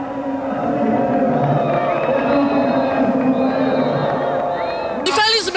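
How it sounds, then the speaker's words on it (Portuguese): A crowd of teachers at a union gathering fills the air with a loud, sustained mix of clapping, shouting and booing, with voices calling out over the din and a sharper burst of cries near the end. "os professores se dividiram entre aplausos e vaias"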